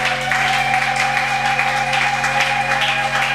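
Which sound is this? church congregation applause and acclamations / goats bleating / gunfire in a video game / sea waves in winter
church congregation applause and acclamations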